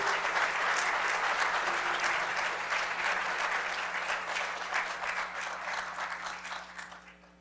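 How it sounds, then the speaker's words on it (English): Sustained applause from an audience for a choir at a Martin Luther King Jr. memorial program at Essex County College, dense and steady, then slowly thinning and fading out near the end, with no voices over it. "Let's give another round of applause for the ECC Choir, everybody."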